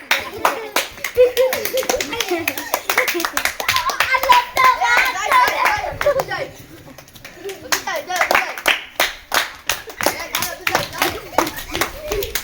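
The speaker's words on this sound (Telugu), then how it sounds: "అరే కొట్టకుర్రా, క్లాప్స్ కొట్టకుర్రా." Children clap their hands in irregular bursts while playing a game, close and sharp, with kids chattering and shouting among the claps and a brief lull partway through.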